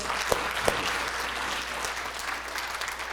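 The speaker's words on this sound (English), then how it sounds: "can we give a big round of applause" An audience at a medical talk on multiple sclerosis applauds with dense, steady clapping from inside the room, plus a couple of sharper individual claps near the start.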